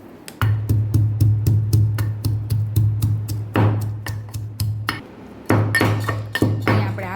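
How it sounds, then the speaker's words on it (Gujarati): Garlic, ginger and salt are pounded coarsely in a mortar, giving rapid, sharp, evenly spaced pestle thuds with a pause partway through before the pounding picks up again. The pounding is close and loud, with no speech. "અને આને આપણે દરદરું પીસી લેવાનું, એટલે કે દરદરું ખાંડી લેવાનું છે."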